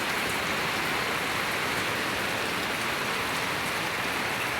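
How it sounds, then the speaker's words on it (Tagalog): Heavy typhoon rain in the Philippines pours down in a dense, unbroken roar, loud and close, with no voices over the steady hiss. "Grabe, ulan yan."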